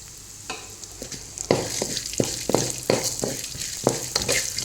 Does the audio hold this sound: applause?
no